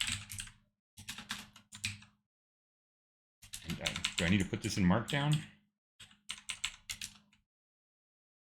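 Fast bursts of clicking keys from a computer keyboard as a ChatGPT prompt is typed, with pauses between runs and a person talking over part of it.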